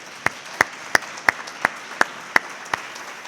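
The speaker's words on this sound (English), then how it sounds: "Let's have a round of applause for them." One person claps at a law school welcoming ceremony, eight sharp, evenly spaced claps close by over a quiet room.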